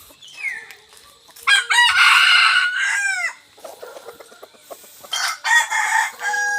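A labuyo junglefowl rooster crows close and loud in short, shrill bursts, with a couple of separate calls broken by brief pauses and some softer clucking between them, no voices present.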